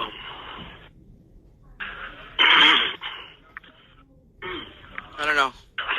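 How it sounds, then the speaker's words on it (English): A man with a cold clears his throat in a few harsh, rasping bursts between stretches of close speech. "That was him clearing his throat."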